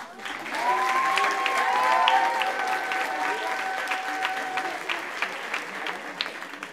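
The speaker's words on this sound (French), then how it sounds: "On applaudit s'il vous plaît" An audience at a stage show claps for a performer, a sustained burst of crowd applause that swells early and then fades slightly, with faint voices mixed in.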